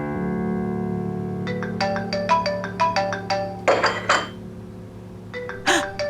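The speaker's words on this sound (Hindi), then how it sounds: "अज़मी बीबी का फोन है" A phone rings in a drama scene with a bright, melodic electronic ringtone. Quick chiming notes repeat in short phrases over a steady low hum, fairly close and clear.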